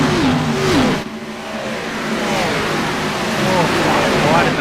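NASCAR race cars roar around Auto Club Speedway, a loud, continuous broadband engine roar with rising and falling pitch sweeps as cars pass by.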